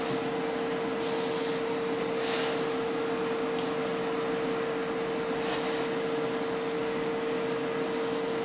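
Steady hiss of a spray gun laying down a light tack coat of 2K clear coat on an MP4/4 model body, continuous and close, with a constant tonal hum underneath and brief bursts of stronger spray.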